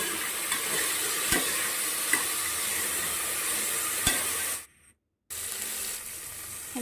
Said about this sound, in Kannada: ಮಸಾಲೆ ಹಾಕ್ಬಿಟ್ಟು ತರಕಾರಿ ಹಾಕಿ ಚೆನ್ನಾಗಿ ಮಿಕ್ಸ್ ಮಾಡ್ಕೊಳ್ಳಿ.